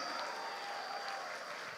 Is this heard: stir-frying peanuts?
no